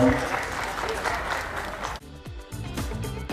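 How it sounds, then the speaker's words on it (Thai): Loud, dense audience applause at a Thai water buffalo show fills the first two seconds, then breaks off abruptly and gives way to scattered sounds and a voice over a PA. "ขอเสียงปรบมือดังๆหน่อยครับผม"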